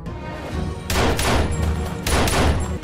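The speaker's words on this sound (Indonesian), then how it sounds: "anggota Black Mask yang tersisa sepanjang perjalanan terus menembaki tim pasukan khusus" Bursts of gunfire in an action film as surviving Black Mask gang members shoot at a special forces team, loud overlapping volleys in two heavy clusters.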